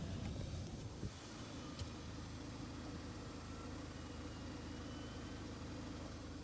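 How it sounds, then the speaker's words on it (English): A Ford car engine idles steadily with a low, even hum and a couple of faint clicks early on, with no one speaking. "The engine's still running."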